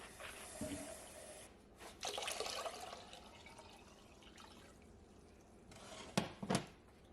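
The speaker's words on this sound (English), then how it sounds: "take your nice sized pot and fill it with 8 cups of water" Tap water runs and splashes into a large cooking pot being filled for roselle tea, a steady close hiss with brief louder gushes near the end.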